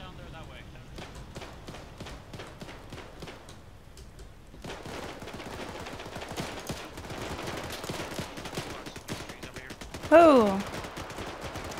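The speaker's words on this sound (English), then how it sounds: "Oh, they're shooting." Gunfire from enemies in the trees in the military video game Arma, a rapid sequence of distant cracks and bursts that continues throughout, with a voice exclaiming briefly near the end.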